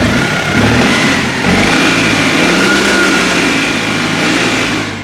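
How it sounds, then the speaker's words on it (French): A classic Citroën Méhari engine revs up at a historic car rally, a loud, close, continuous mechanical drone that swells and eases slightly as the throttle is worked, with no talk over it. "on va voir le bruit du moteur de cette belle Méhari"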